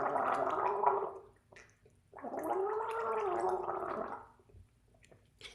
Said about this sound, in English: get a sip of water, gargle it a little bit.